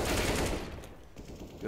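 A short burst of rifle fire during a competitive Counter-Strike match on the map Train, a quick rattling spray of shots that fades into quieter game ambience.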